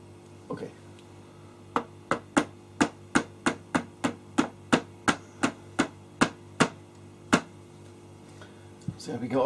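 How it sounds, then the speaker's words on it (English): A hammer taps a pin punch to drive a pin out of a vintage Kahler tremolo guitar bridge, giving about sixteen sharp metallic strikes at a steady rhythm, close and clear against a low hum. "This hammer should be adequate."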